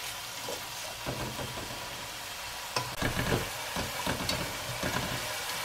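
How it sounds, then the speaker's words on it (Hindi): Onions frying in a pan for a masala fish curry, giving a steady broadband sizzle with scattered stirring clatter and a louder burst of crackle midway, close and continuous with no talking. "थोड़ा सा फ्राई करना है ताकि ये थोड़ा सॉफ्ट हो जाए"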